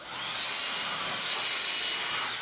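Roborock H6 cordless vacuum cleaner fitted with a small head runs continuously, a close, steady high-pitched motor whine and airy hiss with no voices.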